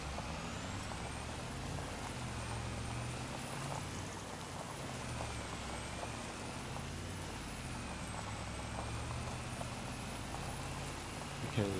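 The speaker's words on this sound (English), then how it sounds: "biggest truck I have, the logging truck right there, or trailer, it does not go down that road very well." A logging truck drives in Farming Simulator 25, its engine giving a continuous low rumble with a high mechanical whine above it that rises and falls slightly, steady for the whole stretch.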